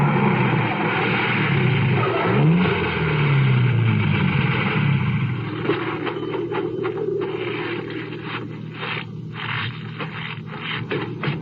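A car pulls up to a lakeside cottage camp in the morning, its engine a low steady rumble with scraping and rolling tire noise, settling to a quieter hum as it comes to a stop.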